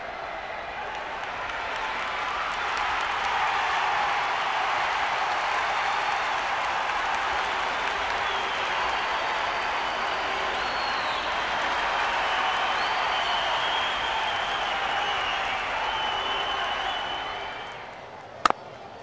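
A cricket video game crowd breaks into sustained applause, a broad wash of clapping and murmuring that holds steady for many seconds and then fades, ending with a single sharp knock.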